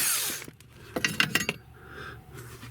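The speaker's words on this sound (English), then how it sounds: "So now I can take out that 8mm bolt." Hand tools work an 8mm bolt out of a bracket inside a 2014 Ford F250 during A/C evaporator work, with a soft scrape, then a cluster of sharp metallic clicks and taps close by, and a faint rattle afterward.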